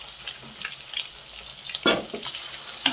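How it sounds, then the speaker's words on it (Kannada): Masala sizzles and fries in hot oil in a pan for egg masala, a steady soft crackle broken by louder bursts of sizzling and stirring scrapes, with no talking. "ಹಸಿ ವಾಸನೆ ಹೋಗೋವರೆಗೂ ಅದನ್ನು ಫ್ರೈ ಮಾಡಿಕೊಂಡು"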